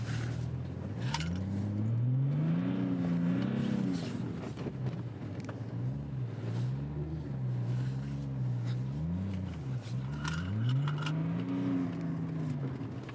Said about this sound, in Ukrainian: Турбина дує, дизель